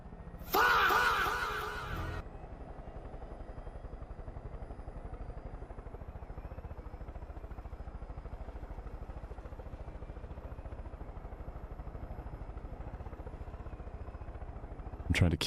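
Helicopter rotors in a video game, heard as a steady, even whirring drone that runs throughout, with a loud, brief clattering burst near the start.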